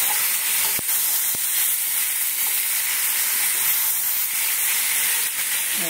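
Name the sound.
frying fennel and cumin seeds in oil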